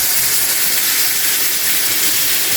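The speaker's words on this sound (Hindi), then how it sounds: "अब इस स्टेज पे मैं डाल दूँगी 1 गिलास दूध इसमें" Milk is poured into roasted flour in a hot pan, producing a steady loud sizzling hiss that stays continuous and close throughout.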